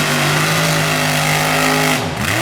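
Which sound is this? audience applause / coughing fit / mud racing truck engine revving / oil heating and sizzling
mud racing truck engine revving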